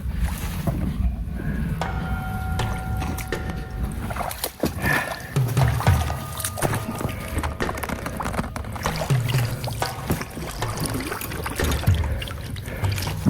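A homemade raft is paddled across water after being pushed off, with steady splashing strokes, wooden knocks and water sloshing under wind noise, close and continuous with no talk.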